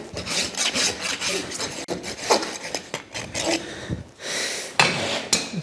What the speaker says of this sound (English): It shows that you're actually nailing into a decent bit of hoof and not an old crack.